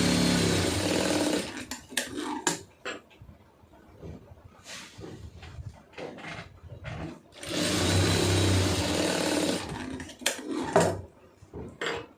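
A sewing machine stitches blouse fabric in loud, steady whirring bursts, with pauses between runs that are filled with handling clicks and rustles.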